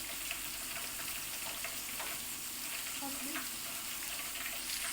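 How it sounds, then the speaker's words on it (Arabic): Meat sautéing in a pan gives off a soft, continuous sizzle, with light scraping and stirring clatter now and then, heard fairly faintly in a home kitchen. "طبعا انا شوحت اللحمه اهي زي ما انتم شايفين"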